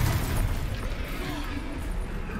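Fiery Confringo spell blast in the Hogwarts Legacy video game, a dense rumbling boom that fills the whole moment with steady low-end roar and crackle, loud and close, with no clear talk over it.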